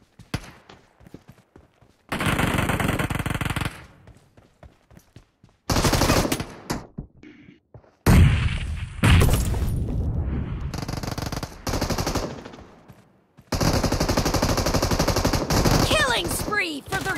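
Machine gun fire in PUBG Mobile team deathmatch: several long, loud sustained bursts of rapid automatic gunfire separated by pauses and scattered single shots and thuds, close and harsh.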